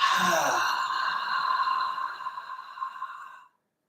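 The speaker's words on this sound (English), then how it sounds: "That ha is the fire sound, elemental fire and Qigong." A long, breathy voiced 'ha' exhale from qigong breathing practice, close and sustained for about three seconds before fading out into silence.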